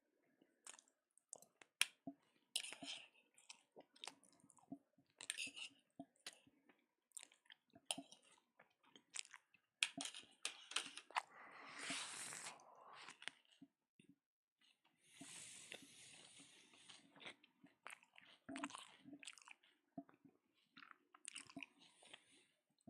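Someone chews French fries close up, with faint, irregular crunches, bites and soft wet squishes over about twenty seconds.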